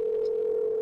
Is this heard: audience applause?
no